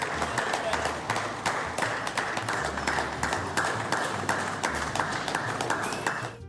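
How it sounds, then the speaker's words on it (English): UK Parliament MPs clap for Zelensky's speech, a scattered run of sharp, uneven claps over a murmur of voices in a large chamber. "British MPs responded by clapping."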